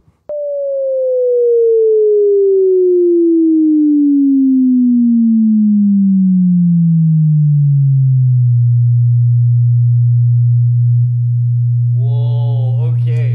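A loud, pure sine tone sweeps steadily downward through the low range in a room to find its resonance, then holds a sustained low hum; a faint voice briefly chants near the end.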